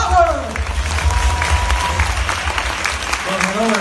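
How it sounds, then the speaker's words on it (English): A conference audience in Malaysia applauds to welcome Dr. Mark Barker onto the stage, a dense, sustained clapping that fills the room, with a voice audible over it at the start and again near the end. "Please give a round of applause"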